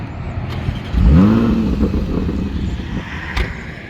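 A 2022 Porsche Macan SUV pulling away, its engine note rising in a quick rev as it accelerates past close by, then easing into a steady rolling drone with road noise and no talking.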